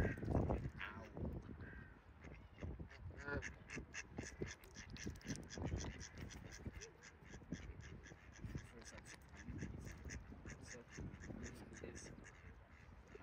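Crows caw and ducks quack around a pond where geese and swans are being fed, the calls overlapping steadily under ongoing chatter from people nearby.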